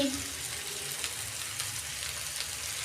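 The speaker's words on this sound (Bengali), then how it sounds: "চিলি সস দিচ্ছি" Chili sauce poured into a hot pan of pasta in a home kitchen, giving a steady soft sizzle with light stirring scrapes throughout, close and moderately loud, with no talking.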